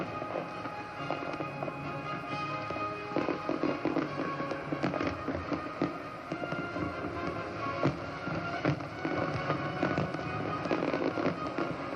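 Fireworks burst and crackle continuously in a dense barrage of 2,500 shells over an Australian harbour at a 1986 naval review, with booming explosions echoing over a wide open space.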